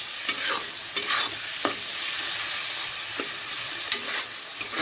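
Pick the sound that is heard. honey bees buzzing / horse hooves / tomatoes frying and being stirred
tomatoes frying and being stirred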